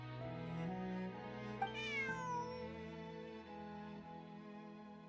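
A cat in Genshin Impact lets out a drawn-out, rising meow over soft, sustained background music, the call clear and close against the quiet score, with no voices.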